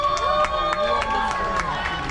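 Cruise ship audience on a Carnival Horizon sea day cheering and making noise for a couple in a game, a loud, dense crowd roar with scattered shouts and claps under a host's voice.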